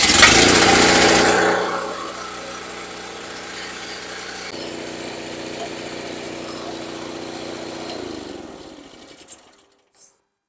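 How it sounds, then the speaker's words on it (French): A King Canada 5100-watt gasoline generator is started, a loud burst at first that settles into a steady mechanical engine hum for several seconds before cutting off, followed by a couple of faint knocks. "Ensuite, on met la génératrice en marche."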